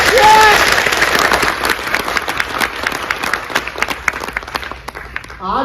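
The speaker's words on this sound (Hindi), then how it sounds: "एक बार जोरदार ताली मारिए" Loud, dense applause from a seminar audience, many hands clapping together close by, starting at full strength and slowly thinning out over several seconds.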